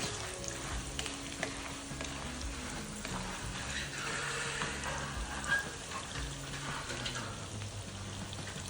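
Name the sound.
green and dry chillies frying in oil for spicy puffed rice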